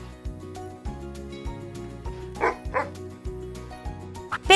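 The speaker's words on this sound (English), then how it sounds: "Dog." A dog gives a few short yips and barks, two close together midway and another at the end, over a rhythmic children's music backing track.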